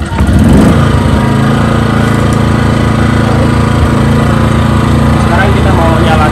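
A Hyundai HDG 2880 generator engine runs steadily and loudly close by, a constant low mechanical drone with a harsh rattling texture, a brief surge at the start settling into an even idle.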